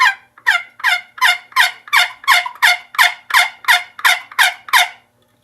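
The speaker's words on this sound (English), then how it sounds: "You put chalk on this wood, and as you scrape it across this, it channels through these holes and makes a sound." A chalked wooden friction box turkey call scraped by hand gives a loud, raspy run of about a dozen evenly spaced, yelping gobble-like notes, close and alone with no talk.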